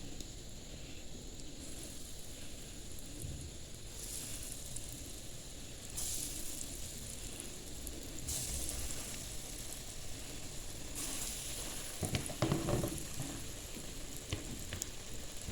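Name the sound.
Chinese kebabs frying in hot oil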